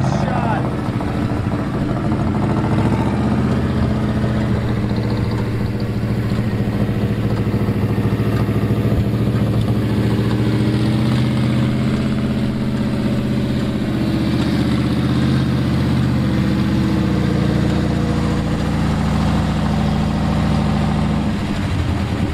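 An old, long-forgotten Ford dump truck engine runs at a steady idle for a long stretch, a continuous low rumble close by with no revving or breaks.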